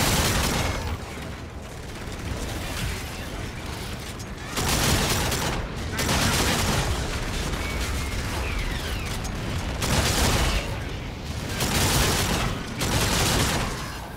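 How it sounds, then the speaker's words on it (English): Sustained heavy gunfire and explosive booms in a Call of Duty: Infinite Warfare campaign battle, with dense bursts throughout and a few louder blasts around mid-clip, with shouting voices mixed in. "Come on, keep shooting, boys."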